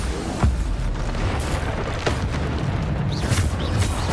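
The Bombarda blasting spell from Hogwarts Legacy goes off during a boss fight: deep, booming magical explosions and bursts over continuous game noise. Several sharp impacts land at intervals, with no speech.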